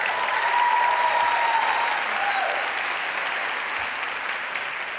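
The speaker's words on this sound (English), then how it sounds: "Let's get another round of applause for that." Conference audience applauds steadily, a dense even wash of clapping that holds at a loud, constant level for the whole stretch with no speech over it.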